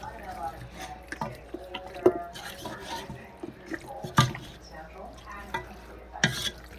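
A spoon scrapes and stirs a thick, wet catfish stew in a bowl, with soft squelching and intermittent clinks against the sides.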